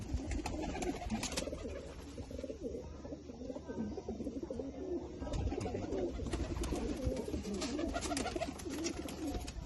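Several racing pigeons, including grey ones, coo softly and repeatedly, overlapping in a steady murmur with faint rustling and fluttering around them.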